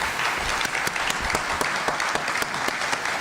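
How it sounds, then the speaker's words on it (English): An audience at a Prince William County supervisor candidate forum applauds both candidates, with steady, dense clapping and a few sharper individual claps standing out throughout. "How about a round of applause for both of our candidates?"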